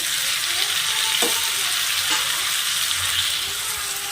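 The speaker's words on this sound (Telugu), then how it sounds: "ఆనియన్ వేగిపోయాక టమాటా కూడా వేసేసుకున్నామండి." Onion and tomato frying in a pan while being stirred, a steady close sizzle broken by a couple of scraping spatula strokes, with no talking.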